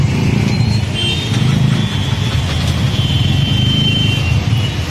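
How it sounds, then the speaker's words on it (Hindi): Heavy road traffic on the Mathura–Vrindavan road near Ropam cinema, a steady mix of car and motorcycle engines idling and rumbling close by, with a continuous dense drone and no talk. "बहुत हैवी ट्रैफिक लगा हुआ है"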